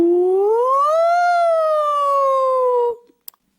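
A voice imitates a fire engine siren with one long sustained wail that rises, holds and slowly falls, loud and alone, followed by a couple of faint clicks.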